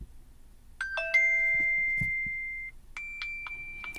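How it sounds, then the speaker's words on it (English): Several short Samsung Galaxy Watch 5 Pro notification chimes play one after another, clear bell-like tones with some ringing out briefly, in a quiet setting. "These are different notification sounds."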